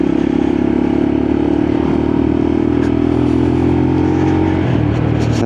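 A Lexmoto LXR motorcycle on a test ride puts out a loud, steady engine drone with wind rush that shifts pitch near the end as it rounds a corner.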